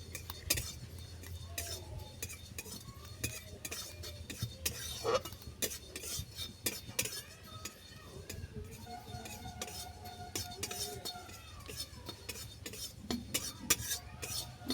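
Sesame seeds dry roasted in a pan, with a utensil scraping and clinking against the metal in irregular close strokes and light rattling throughout.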